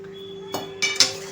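Metal lid lifted off a pot of sabudana khichdi steaming over a low gas flame, giving a few short clinks and clatters in quick succession, close and fairly crisp against a steady faint hum.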